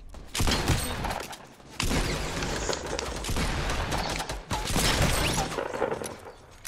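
Rapid gunfire in the video game Fortnite: dense, loud volleys of shots and bursts that go on almost without a break, with brief gaps between the barrages.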